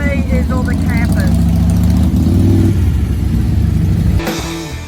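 Vehicles roll through a caravan park car park with campers nearby, a loud steady engine rumble and idling drone close by, with a voice speaking over it at the start and a brief clatter near the end.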